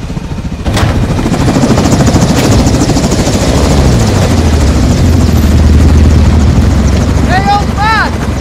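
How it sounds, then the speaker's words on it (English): A helicopter hovers in a Modern Warfare 2 battle scene as a loud, continuous rotor roar with a low throbbing pulse, joined near the end by sharp whistling game effects and faint voices. "Stay in the heli on overwatch."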